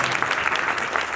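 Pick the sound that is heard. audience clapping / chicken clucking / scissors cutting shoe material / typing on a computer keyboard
audience clapping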